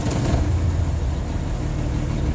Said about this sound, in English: I'm going to turn on the vehicle.